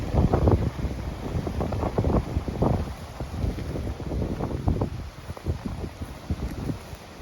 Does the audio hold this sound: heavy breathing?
no